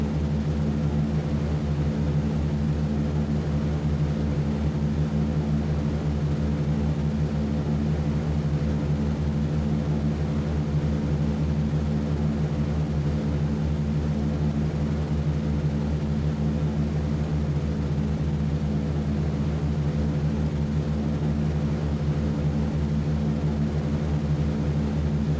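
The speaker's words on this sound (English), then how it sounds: "You are cleared for takeoff." B-17 Flying Fortress bomber engines run up for takeoff in the flight game The Mighty 8th, a loud, steady, multi-engine propeller drone that holds without a break, with no talking.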